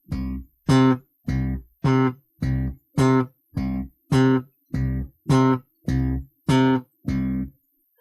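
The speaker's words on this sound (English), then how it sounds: "lift your fingers to deaden the note right away to give you a very short staccato sound" Slap bass electric bass plays a row of eleven short staccato notes, each deadened right away by lifting the fingers, evenly spaced and punchy, close and alone.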